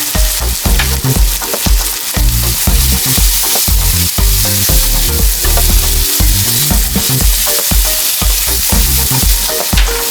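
Chopped carrot, beans and capsicum fry in a pan for pav bhaji, giving a loud, close, continuous sizzle with frequent rhythmic stirring and scraping knocks throughout, and no voices.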